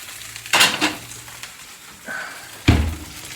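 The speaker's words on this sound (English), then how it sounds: "it's sizzling pretty good in there" Steak sizzling in a frying pan, bursts of crackling spatter rising and fading twice, with a faint clink of pan or utensil between them, close and fairly loud, no talking.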